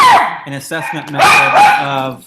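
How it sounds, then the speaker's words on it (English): Dogs bark and yip nearby in a home, high, wavering calls mixed in with a person talking over them. "sorry for the dogs"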